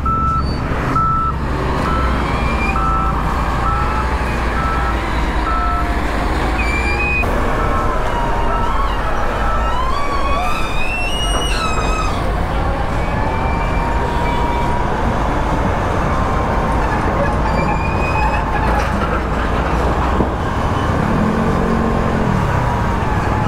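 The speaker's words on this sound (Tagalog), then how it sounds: "Bali, ito naman yung truck ng MMDA." An MMDA truck works a street corner during road clearing operations, its engine rumbling steadily and loudly throughout with repeated reversing beeps and passing traffic noise around it, no talking.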